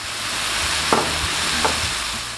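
Glass noodles and vegetables being stir-fried in a single pan for Korean japchae, a low steady sizzle with two brief scraping stirs of the utensil against the pan, close and with no talk.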